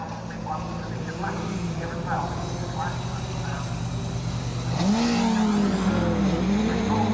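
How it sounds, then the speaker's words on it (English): A Darien GTR rally car launches off the line at a circuit rally stage, its engine note rising sharply as it pulls away, with a commentator talking over the moderately distant motor. "James Garner ready to launch that Darien GTR off the line."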